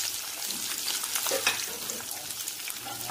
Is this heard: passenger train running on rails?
no